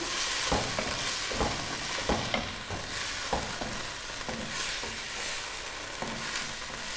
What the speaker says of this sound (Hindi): इसलिए हमने यहाँ पर फ्लेम को हाई रखना है और कीमे को भूनना है।